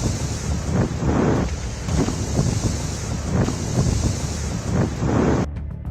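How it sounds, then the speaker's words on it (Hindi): Destructive storm winds roar outside, a steady, heavy gusting rush with surging waves of noise buffeting the microphone, continuing without speech until a sudden cut near the end. "बाहर विनाशकारी तूफान ने तबाही मचा रखी है"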